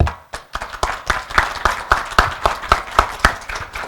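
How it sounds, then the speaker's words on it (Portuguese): Audience at a housing event clapping together in a steady, rhythmic beat, loud and close, with no voices over it. "Salve de palmas."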